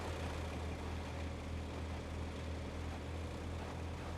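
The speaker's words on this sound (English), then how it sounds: "the engine sounds doesn't really do a good enough indication of what kind of RPM range I am at" A heavy truck engine idles in the off-road driving game Roadcraft, a steady, low rumbling drone with no change in pitch, heard alone.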